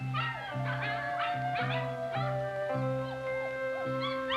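Several puppies whimpering, yipping and whining in short overlapping cries with a steady hum beneath, on the soundtrack of an old 16mm film.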